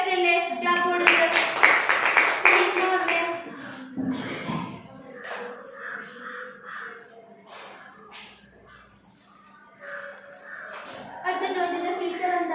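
A classroom biology demonstration lesson where students break into a short burst of clapping for a correct answer, mixed with talking voices before and after the applause.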